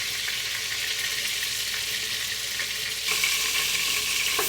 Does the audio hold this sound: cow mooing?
no